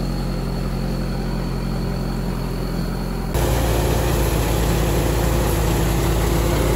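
Rice threshing machine engine running in a paddy field, a loud continuous droning hum that jumps abruptly louder and rougher halfway through, steady with no breaks.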